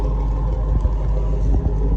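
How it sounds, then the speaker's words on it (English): A Chevy Box car's engine, started by remote start, idles with a steady deep low rumble close by, a continuous throaty exhaust drone with slight pulsing. "Got a remote start on the car now, so the only thing you do early in the morning, you hold that. So she fires right up."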